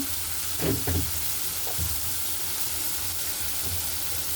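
Chopped tomato hits a hot frying pan and sizzles steadily, with a brief burst of spattering early on settling into a continuous close hiss.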